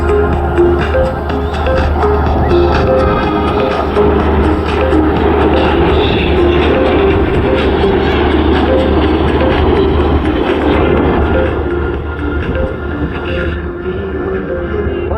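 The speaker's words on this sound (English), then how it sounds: "2 L-39s and another one smoking down there and taking off." Loud, sustained roar of L-39 jet trainers flying and taking off at an airshow at Selfridge Airbase in Michigan, a continuous engine drone that eases slightly near the end.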